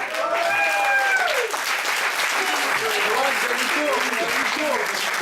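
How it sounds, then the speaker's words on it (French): Wedding guests clap for the couple at an evening party, a steady mass of applause with voices talking and cheering over it. "Oh, c'est mignon, on peut les applaudir."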